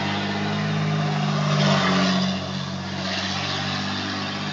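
A loud car engine with no muffler revs and drones steadily for several seconds, rough and continuous with a slight swell in the middle, heard alone without talk.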